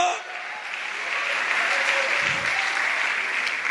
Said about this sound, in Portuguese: Pode aplaudir, irmão, pode aplaudir.